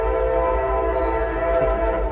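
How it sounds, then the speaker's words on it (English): A train passes with its horn sounding, a loud, steady, sustained blare over a deep rumble of rail cars, heard outdoors near Moab without talk. "That is a choo-choo train. Okay, train's passed."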